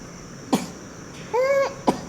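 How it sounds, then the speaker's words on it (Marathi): A baby coughs twice with short, sharp coughs, and a brief voiced cry or whine falls between them. The sound is close and clear against a quiet room. "अले खोकला आला"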